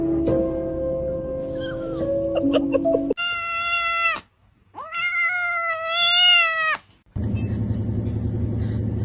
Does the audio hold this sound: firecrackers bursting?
no